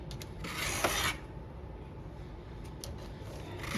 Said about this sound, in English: this tool is sharpening the tooth and the rakers at the same time with the round file and the flat file